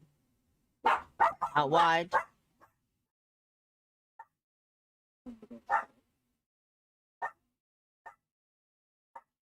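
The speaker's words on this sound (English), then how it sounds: "Sorry about the dog, people." A dog barking indoors near a live football watchalong, with a short loud burst of barks and yips up front, then scattered single barks spaced out over the rest, and a brief spoken word partway through.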